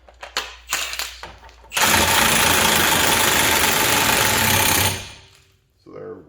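A handheld impact wrench hammers an axle nut onto a car's broken-axle repair in one loud, sustained rattling burst of about three seconds, with brief clanks before it and a short follow-up burst at the end.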